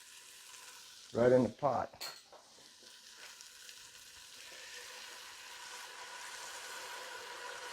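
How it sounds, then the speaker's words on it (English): Guinness stout poured into a hot pot of roasted garlic for venison stew lets out a loud, close sizzling burst lasting about a second, then settles into a faint steady simmer. Someone speaks briefly. "I'm going to go ahead and throw in my Guinness"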